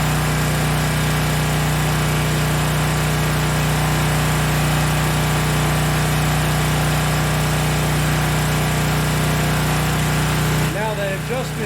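Generator engine converted with a NashFuel tri-fuel propane and natural gas kit running steadily with a constant hum, close and loud throughout with a faint voice near the end.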